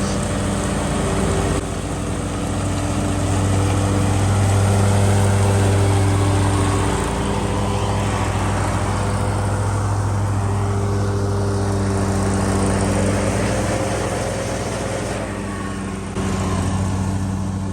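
A Stihl BR800 backpack leaf blower runs continuously nearby, its engine droning loud and steady with a slight rise and fall in pitch, heard on its own outdoors on a lawn.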